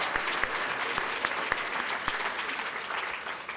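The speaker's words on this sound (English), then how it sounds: "I'd like to give a round of applause for that team." Steady, dense clapping from a conference crowd, loud and continuous throughout with a few sharper individual claps standing out.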